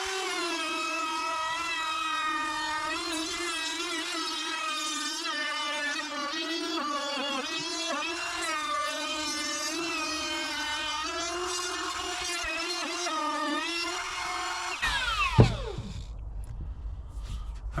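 A power tool cuts an angled chamfer along the edge of a Home Depot pine board for a hand-cut sign, a loud steady whining drone that holds for about fifteen seconds, then winds down and stops.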